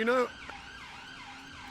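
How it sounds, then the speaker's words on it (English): An ambulance siren wails near a hospital, a brief loud tone at first and then a fainter, rising and falling wail that carries on in the background. "hang on, because it's living near a hospital. Ambulance break."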